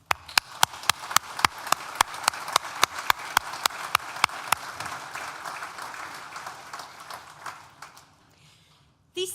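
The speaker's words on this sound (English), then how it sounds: "Please join me in thanking them with a well-deserved round of applause." Steady round of applause from a graduation ceremony audience at Nottingham Business School, dense clapping with sharp periodic peaks for several seconds, then fading out into near silence before a brief return of sound at the very end.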